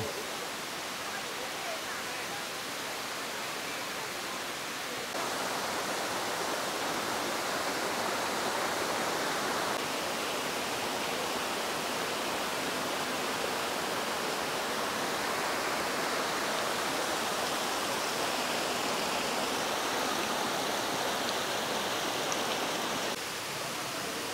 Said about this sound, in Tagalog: nandito na tayo sa may falls at grabe